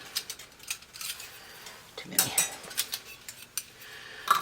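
Metal screw bands twisted onto glass canning jars fingertip tight, a close run of scraping metallic clinks and rattles with brief louder bursts, no speech over it.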